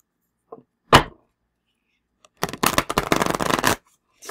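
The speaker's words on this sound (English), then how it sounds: "They really are stuck together, so I'm going to shuffle them again." Stiff, stuck-together oracle cards from an Ancient Stones deck are shuffled by hand. Two light taps come first, then a close, dense burst of rapid riffling and flapping lasts just over a second, with no talking.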